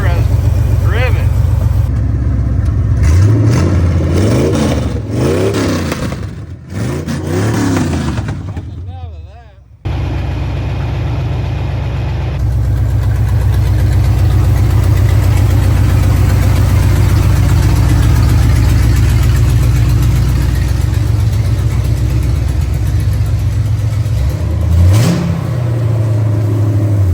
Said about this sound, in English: First time this motor has driven.